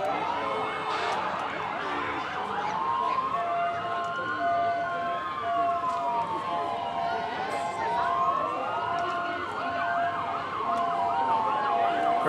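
An ambulance siren rises and falls continuously over steady traffic and crowd noise at a Stars & Stripes Day parade in Guttenberg, loud and close throughout.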